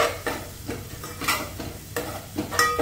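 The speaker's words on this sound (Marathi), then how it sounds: "हांवें बरो मसालो भाजून फ्राय करून घेतलो आसा" Masala roasts in a pan for vada pav with a soft, steady sizzle under repeated rhythmic scraping stir strokes, heard close up with no talk.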